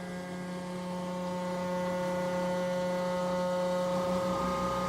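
A CNC machine cutting air holes in birch plywood for a scroll saw dust collector table, a steady loud tonal whine with a droning hum, unbroken for the whole stretch.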